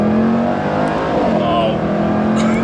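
A Jaguar F-Pace SVR SUV in sport mode accelerates hard, its engine droning loud and steady from inside the cabin, with a brief pitch shift partway through as it pulls.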